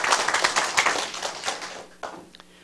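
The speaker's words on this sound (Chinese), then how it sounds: "家己拍手者" Hands clap in a lecture hall during a political law seminar, a quick burst of fairly close applause from a small crowd that thins out and fades after about two seconds.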